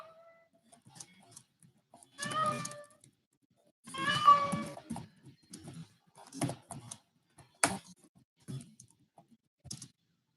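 A cat meows twice at close range in a quiet room, drawn-out tonal cries separated by silence, with scattered clicks of computer keyboard typing.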